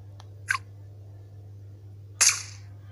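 Gunshots in a hidden-object puzzle game, two short sharp bangs about two seconds apart, the second louder, over a low steady hum.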